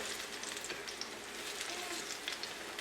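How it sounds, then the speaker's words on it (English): Plantain slices fry quietly in a pan, a soft, even sizzle with faint crackles and no voices. "2 minutes on one side, and I'm going to flip them over."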